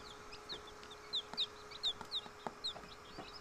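Chicks in a brooder warmed by an adjustable heater give faint, scattered high peeps, a handful in quick succession, over a quiet low hum and occasional soft taps.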